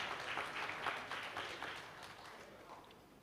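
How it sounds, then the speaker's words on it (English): An audience at an Indonesian development seminar applauds in a faint, brief burst of scattered hand claps that swells for about a second and then trails away, heard at a distance. "let us give a big round of applause for the Mr. Suharso Monoarfa."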